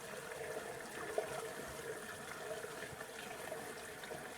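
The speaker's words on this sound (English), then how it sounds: "we're going to slosh some petroleums in here" Petrol sloshing and trickling as it is poured into the fuel tank of an 1980s Daihatsu 4x4, a faint, steady liquid splashing and gurgling close by with no talk.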